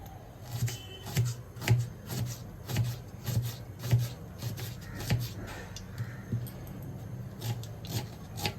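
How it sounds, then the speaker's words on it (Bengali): Close, regular knife strokes on a cutting board while an onion is chopped at home for a Bengali rice fry, a crisp rhythmic tapping of about two cuts per second with no talk. "আমি একটু পেঁয়াজটা কুচিয়ে নিই।"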